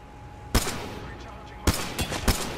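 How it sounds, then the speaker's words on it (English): Sniper rifle fire in the battle royale game Apex Legends: a few sharp, loud shots, one alone then three in quick succession, over a low steady game ambience. "Someone's sniping."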